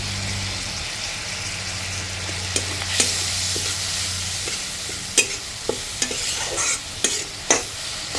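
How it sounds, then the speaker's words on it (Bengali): Ground turmeric, cumin and coriander with green chilli frying in a pan, a close steady sizzle broken by several sharp scrapes and taps of a spatula stirring, with a low hum fading out early. "এই জন্য মশলাটা একটু ভেজে নিচ্ছি"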